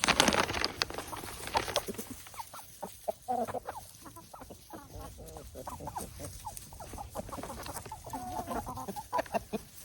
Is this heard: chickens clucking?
yes